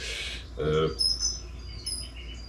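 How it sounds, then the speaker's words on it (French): Faint high bird chirps and tweets from a live bird-sound radio stream play softly in the background, scattered short calls over a quiet hum. "J'ai décidé que je mettais une radio live de bruit d'oiseaux"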